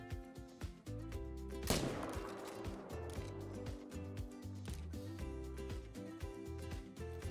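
Gunshots ring out in a hunting video game: one prominent crack rises out of a steady ambient bed, followed by lighter repeated sharp hits, at moderate loudness with no voices.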